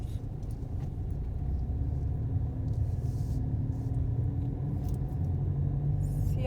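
A car engine hums low and steady during a driving lesson as the learner presses the gas. The rumble is continuous and close, with no speech over it.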